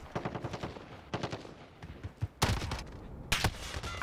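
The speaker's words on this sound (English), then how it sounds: "I'm being shot from every direction possible." Gunfire in a first-person shooter video game: rapid automatic bursts crackle in quick rhythmic strings, punctuated by two louder, heavier blasts, with a sparse background between volleys.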